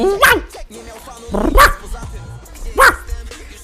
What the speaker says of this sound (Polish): szczeknięcie dla ciebie